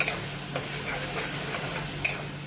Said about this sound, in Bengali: সুন্দর করে নাড়িয়ে নিচ্ছি মশলাটা